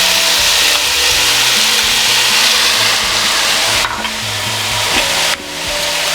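Three Roma tomatoes go into a pan of browning food, setting off a loud, steady sizzle and hiss that holds throughout with occasional stirring scrapes and brief dips in intensity.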